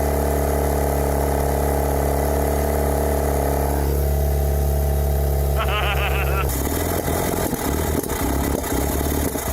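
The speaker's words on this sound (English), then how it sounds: "Just gonna get some heat in the engine." An old car engine, rescued after sitting abandoned, runs and warms up. It gives a steady droning hum that shifts into a rougher, louder surge near the end as it revs.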